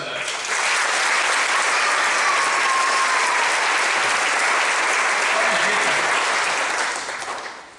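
Sustained applause from a church congregation, loud and steady for about seven seconds before fading at the end.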